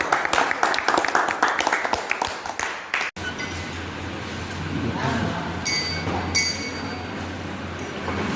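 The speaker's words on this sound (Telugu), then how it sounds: "గట్టి క్లాప్స్ కొట్టండి." A classroom of students claps hard in a rapid, dense burst for about three seconds, then breaks off abruptly, leaving room murmur and faint clinks.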